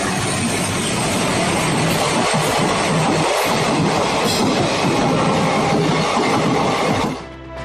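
A 21-coach passenger train runs on the rails, a loud continuous rumble with rhythmic wheel clatter and hiss that holds steady, then drops away abruptly near the end.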